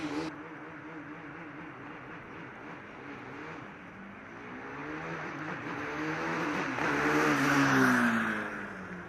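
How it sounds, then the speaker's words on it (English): Formula Student race car with a single-cylinder KTM engine and beer-keg exhaust silencer buzzing as it passes on an acceleration run, the pitch climbing and the sound growing louder toward the end as it accelerates. "They've got a single-cylinder KTM engine and a very unique exhaust."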